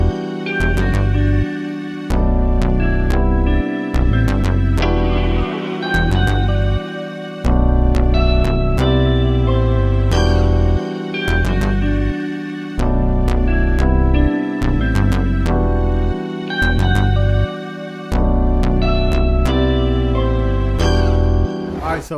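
Melodic West Coast hip-hop beat loop built in FL Studio 21, with a steady rhythmic drum pattern, deep bass and layered melodic synths plus ear-candy accents, playing loud and continuous with brief bass dropouts, no talking.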